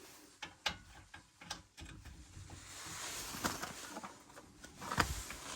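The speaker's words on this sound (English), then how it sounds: "Nice big ratchet." A big ratchet turning a T55 socket on a Porsche Boxster brake caliper, quiet clicking strokes in irregular bursts with a few louder knocks, close up in a calm garage-like space.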